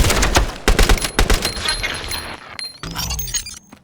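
Gunfire in the video game Call of Duty Advanced Warfare: a loud burst of rapid shots with sharp, crackling impacts, then a quieter tail of debris and effects.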